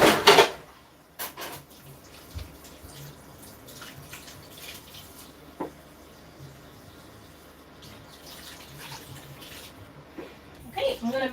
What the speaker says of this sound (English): And then I'm going to wash the dishes so you guys can have a bit of a look